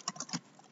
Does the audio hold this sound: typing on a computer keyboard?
yes